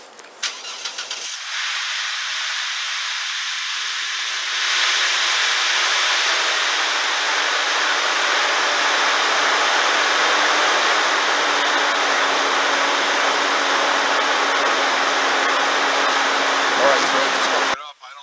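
A Chevy Trailblazer with a secondary air injection fault cranks and starts cold, then settles into a steady loud idle with a strong whooshing air rush that runs for over ten seconds before cutting off.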